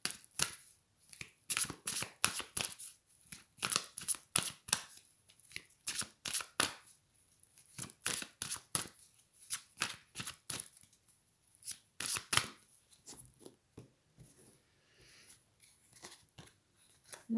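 Tarot cards are shuffled and drawn by hand, giving repeated crisp riffling bursts and snaps in an irregular rhythm, close and fairly loud, with no voices.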